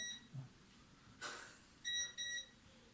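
An electronic device beeping in a quiet farmhouse at night: two short pairs of faint, high electronic beeps near the end, preceded by a soft hiss and a low knock in a hushed room.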